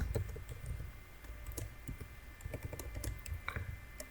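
Typing on a computer keyboard to enter a network command during CCNA static routing configuration: quiet, irregular clicks and key taps run steadily throughout, close to the microphone, with no talking.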